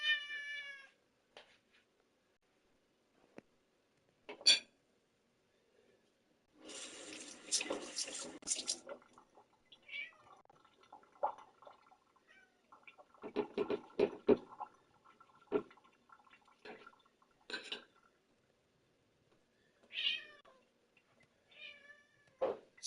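A cat meows several times in short, separate calls, close and clear, with a burst of running water from a tap or sink partway through and a few quieter rustles between.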